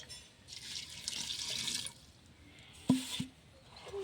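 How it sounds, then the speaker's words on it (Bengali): Water pours into a cooking pot in a home kitchen, a soft splashing stream for over a second, followed by a couple of sharp clinks and drips, with no talk. "এবার আমি একটু পানি দিব"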